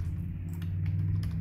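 Typing on a computer keyboard while working in drawing software, a few soft clicks scattered over a steady low hum, with no talk.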